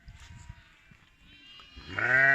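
A sheep bleats at a nomadic herding camp where ewes have just given birth. Low rustling comes first, then one loud, close, wavering bleat swells at the end.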